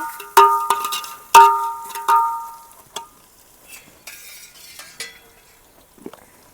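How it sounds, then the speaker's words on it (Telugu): Onions frying in hot oil in a pan for kandi kattu charu, a lentil broth, with several loud metal clangs and scrapes of a spoon in the first three seconds, then softer sizzling and scattered faint stirring clinks. "మంచి ఉల్లిగడ్డలు ఇట్లనే ఫ్రై చేసుకోవాలి ఎందుకంటే నూనెలో ఉడకకపోతే చారులో కూడా ఉడకదు ఉల్లిగడ్డ"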